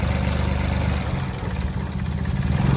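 A motorcycle engine idles steadily up close with an intake air leak, giving a continuous low, slightly uneven mechanical drone with faint clatter and no talk.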